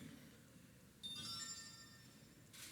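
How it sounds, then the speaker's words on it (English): Phone running a prototype native app gives a sudden electronic beep tone with buzzing vibration, a bright burst lasting about a second, then a short second beep near the end over faint room noise. "it will vibrate and beep."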